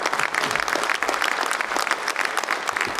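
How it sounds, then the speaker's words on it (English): Audience clapping at a Michigan governor candidate forum, a brief burst of steady applause from a crowd. "hold your applause"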